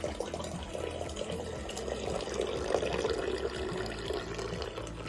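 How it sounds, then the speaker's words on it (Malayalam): Milk poured into the boiler of a 5-litre fresh milk, coffee and tea maker, a steady liquid stream splashing and gurgling at moderate volume for several seconds without speech. "പാല് അതുപോലെ ഒഴിക്കുക."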